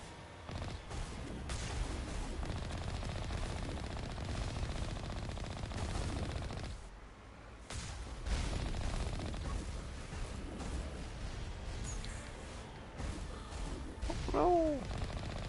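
Dense, rumbling weapon fire with missiles launching in the Mass Effect video game keeps going almost nonstop, breaking off briefly partway through.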